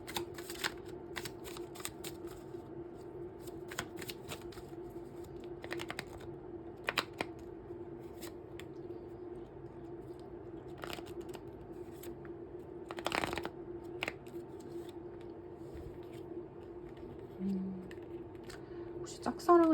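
Tarot cards being shuffled and handled at a reading table, a soft steady rustle with scattered crisp snaps and taps throughout, close and fairly quiet over a faint background hum.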